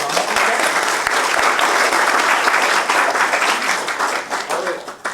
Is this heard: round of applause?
yes